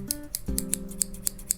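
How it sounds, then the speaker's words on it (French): Small scissors opening and then snipping repeatedly, a rapid run of crisp metallic clicks close to the microphone in a quiet room. "Petit ASMR ciseaux."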